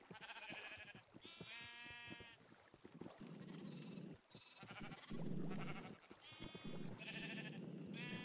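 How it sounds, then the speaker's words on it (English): Minecraft sheep on a modded farm bleat repeatedly in short harmonic calls, several overlapping at close range, over a steady low background rumble. "I've got sheep that pop through this corner in my farm"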